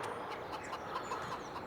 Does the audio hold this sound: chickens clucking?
yes